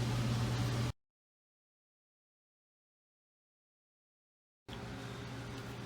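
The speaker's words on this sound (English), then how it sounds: "it's hot summer, so I got fans going. Excuse the noise." Steady, even whooshing of electric fans running nearby in a guitar-making workshop, cut off by several seconds of complete silence before the same constant hum returns.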